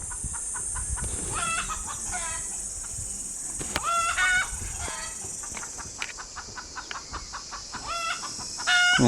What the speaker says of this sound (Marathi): मुंगूस वगैरे आलं ना की असं मग कोंबडी ओरडतात, एकमेकांना सावध करतात.